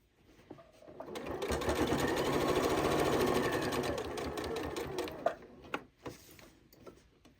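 A Janome 8200 QCP sewing machine stitches fabric for a bowl cozy in a steady, fast mechanical whir that holds for several seconds and then stops, followed by a few light clicks and handling sounds.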